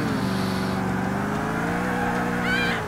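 A rear-wheel-drive car in GTA IV drives with a steady, droning engine note that holds even and loud, with a brief higher whine near the end.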